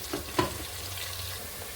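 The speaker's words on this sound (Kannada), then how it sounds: "ಈಗ ಈರುಳ್ಳಿ ಎಲ್ಲ ಫ್ರೈ ಆಗಿದೆ ಎಣ್ಣೆಯಲ್ಲಿ ಚೆನ್ನಾಗಿ." Sliced onions sizzle steadily in hot oil in a pan while chicken biryani is being cooked, a close, continuous frying hiss with one brief clatter early on.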